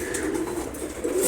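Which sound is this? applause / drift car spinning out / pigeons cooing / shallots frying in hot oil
pigeons cooing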